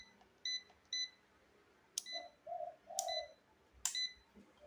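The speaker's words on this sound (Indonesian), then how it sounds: "Untuk buzzer lumayan keras ya suaranya." A UNI-T UT204+ clamp meter's buzzer sounds a few sharp electronic beeps at irregular intervals, with several short tonal chirps in between, fairly close and clear over a quiet background.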